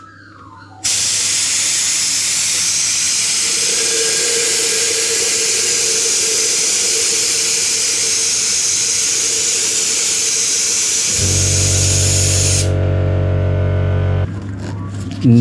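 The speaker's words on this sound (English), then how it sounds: "I'm going to use a vacuum bleeder, which is much more faster" A vacuum bleeder hisses steadily while sucking power steering fluid from a 2010 Mazda 3 BL 2.0L, a long continuous close whoosh that shifts to a harsher gurgling tone near the end before cutting off.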